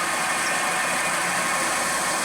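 A milling machine runs at 1200 RPM with a 10mm coated carbide cutter, giving a steady, dense broadband whir and hiss that stays constant throughout and is heard alone.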